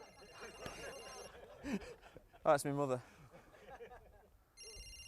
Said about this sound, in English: Whose phone's that? That'll be mine